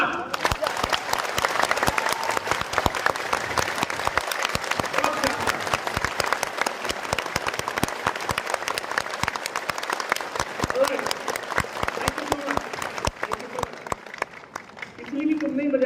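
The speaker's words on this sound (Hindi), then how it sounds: "जीवन की सबसे अद्भुत ताली" A large indoor audience in a stadium hall claps in a loud, sustained, crackling burst that continues throughout before tapering slightly at the end.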